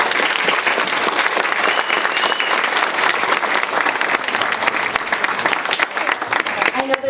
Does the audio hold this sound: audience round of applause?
yes